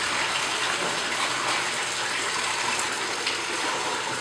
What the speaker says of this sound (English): Water's coming in right back through there.